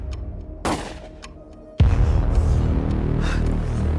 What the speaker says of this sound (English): That sounds like gunshots.